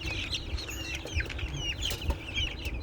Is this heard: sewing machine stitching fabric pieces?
no